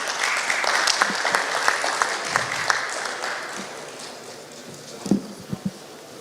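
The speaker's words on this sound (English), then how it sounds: "Let's hear a round of applause for Mr. Mugundan, please." Audience applause at an award ceremony during a 2021 technology summit, a steady dense clapping that fades gradually, with a few louder isolated claps near the end and no talk.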